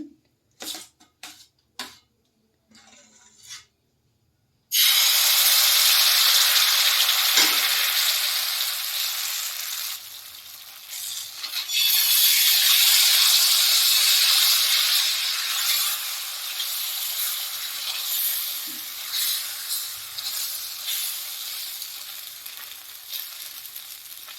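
Palm-fruit pitha batter hits hot oil in a pan and erupts into a loud, sustained sizzle that softens slightly and swells again, preceded by a few brief clinks of utensils in an otherwise quiet kitchen.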